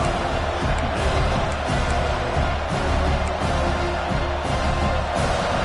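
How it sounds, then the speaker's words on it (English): A stadium crowd at a college football game, Auburn versus Penn State, roars in a loud, continuous wash of cheering and noise throughout, with a faint announcer voice underneath. "the crowd coming to life here, trying to help this defense down in the red zone"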